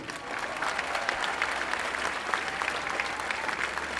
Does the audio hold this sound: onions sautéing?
no